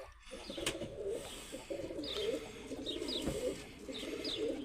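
Pigeons coo softly in a repeated rolling rhythm, several calls spaced a second or so apart against a quiet background hum.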